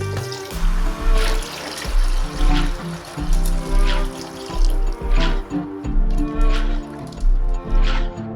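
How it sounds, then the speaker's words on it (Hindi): Water is poured into a cooking pot holding salt and mint leaves for a traditional KPK Pashtun dish, trickling and splashing steadily and fairly close, with no speech. "अब हमने पानी शामिल कर लिया है।"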